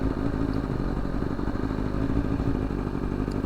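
A tuned motorcycle engine runs in cold weather on a first ride of 2024, a loud, close, steady low rumble with rapid clattering pulses and faint crackle, no voices over it.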